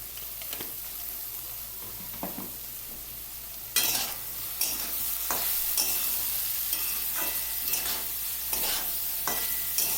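Egg and vegetables fry in a pan, giving a close, steady sizzle as salt is stirred in, with repeated scraping strokes of a spatula that grow louder partway through. No voices.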